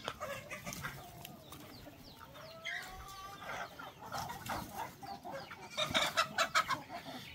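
Several native chickens cluck and chatter nearby, with short rising calls and a busier flurry of clucks toward the end, against faint outdoor background noise.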